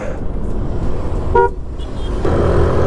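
Busy road traffic in Himachal with a car horn tooting briefly at the midpoint amid steady engine and road noise, heard from a scooter in town.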